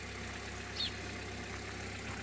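An older German car's 1.8-litre engine ticks over at idle, a low, even hum with a faint rhythmic pulse, quiet and steady with a brief higher chirp partway through.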